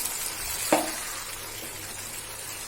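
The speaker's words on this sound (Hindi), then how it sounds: "एक बार अच्छे से हिला लेंगे।" Mutton and fenugreek curry sizzling in a pan over a medium-high flame, a soft continuous fry with one brief sharp scrape of stirring early on.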